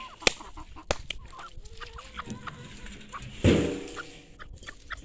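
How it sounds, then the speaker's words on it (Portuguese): Chickens cluck and chatter nearby while eating freshly cut grass on a farm plot, with scattered soft calls, rustling and a louder clucking flurry partway through. "a alegria já das galinhas aí"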